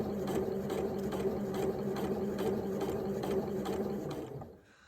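Sewing machine stitching in the ditch on the neck binding of a wrap dress, a steady close mechanical chatter with regular rhythmic pulses that slows and stops near the end.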